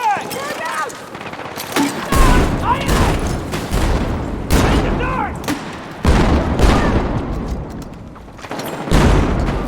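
Frag grenade blasts and heavy gunfire in the video game Battlefield 6, a dense run of loud bursts and booms across the whole stretch, with shouted voices mixed in over the chaos.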